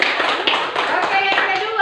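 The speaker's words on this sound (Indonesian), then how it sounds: "Oke, beri tepuk tangan." Children in a primary school classroom clap their hands together in a short burst of quick, close claps, with a voice speaking alongside.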